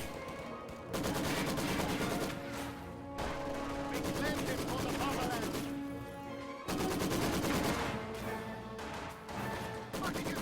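In a tactical video game, a Maxim machine gun fires on grenadiers in long sustained bursts with battle noise around it, and a voice talks over the shooting.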